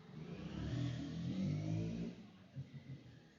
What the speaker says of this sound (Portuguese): Vai sair agora uma moto agora. Ó a moto aí, ó.